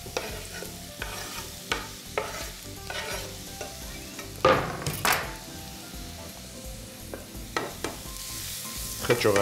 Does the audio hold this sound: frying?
yes